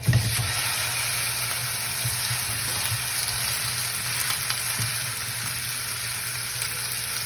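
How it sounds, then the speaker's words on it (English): Ground beef sears in a very hot pan with a little oil, throwing out a loud, continuous hissing sizzle that stays even throughout after an initial burst as the meat hits the pan. "I got a pan that's really hot right now. Got a little oil in it. Ground beef is going to go in."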